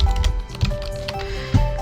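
Keys tapped on a computer keyboard while entering text in Cricut design software, a short burst of quick, fairly close clicks with brief pauses between them.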